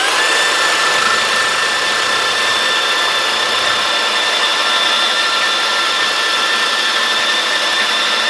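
Bosch GCB 18V-127 cordless band saw cutting through a metal rod, a loud, steady, hissing whir that holds unbroken throughout.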